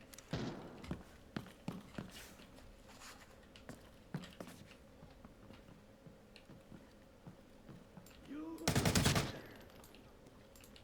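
Gunfire in the Arena Breakout: Infinite shooter, a string of sharp scattered shots at moderate distance, spaced unevenly across the stretch, ending in a louder close burst near the end.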